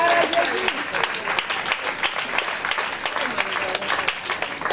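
A church congregation applauds in praise of the Lord, with dense, sustained clapping filling the room while voices carry through it.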